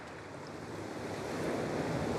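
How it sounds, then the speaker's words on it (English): Ocean waves break against a sea cliff below a booby colony, a steady, distant wash of surf with wind that swells gradually louder toward the end. "where the waves crash against the cliff"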